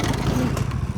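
A motorcycle rides onto a mattress, its engine droning loudly with a brief rev and some clatter, close by.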